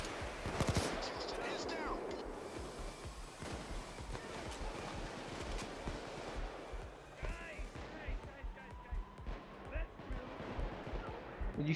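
Gunfire in the video game Payday 2, bursts of rapid shots and impacts under continuous game noise, with players talking over the action throughout.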